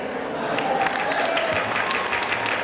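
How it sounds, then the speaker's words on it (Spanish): A crowd at a Garifuna community fair in New York gives continuous dense applause, loud and close throughout. "Que se escuche el aplauso fuerte, por favor."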